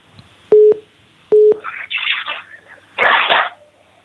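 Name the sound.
telephone dialing tone of an incoming call-in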